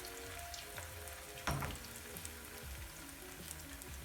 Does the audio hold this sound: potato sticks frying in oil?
yes